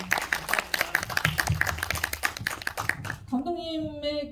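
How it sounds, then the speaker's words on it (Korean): An audience claps during a film Q&A screening event at Indiespace cinema: a dense patter of hand claps for about three seconds, then it gives way to a sustained tonal sound. "박수 한번 네."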